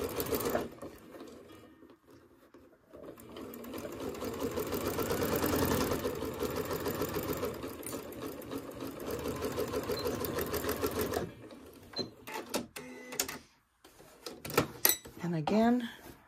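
A sewing machine stitches quilt block seams for a disappearing nine-patch in a long, steady close run of rapid stitching, interrupted and then followed by someone speaking with small handling clicks.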